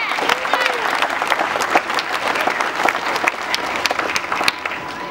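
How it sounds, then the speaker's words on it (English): Crowd applause at a youth baseball All-American opening ceremony in Vero Beach, Florida, steady clapping from many hands with a few sharper claps and faint voices mixed in, lasting throughout. "Give yourselves a round of applause."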